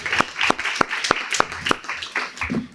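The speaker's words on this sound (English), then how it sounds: "Let's give a round of applause." An audience at an evening community event gives a round of applause, a burst of scattered hand claps with a few sharp, loud individual claps standing out from the crowd.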